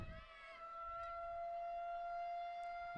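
A civil defense outdoor warning siren sounds during its monthly first-Saturday test near a women's college soccer match, a steady tonal wail holding on alone throughout.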